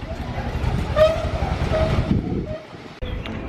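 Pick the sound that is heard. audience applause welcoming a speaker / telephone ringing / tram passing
tram passing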